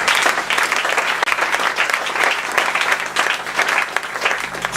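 A church congregation breaks into loud, sustained applause, many hands clapping close together with no break for several seconds.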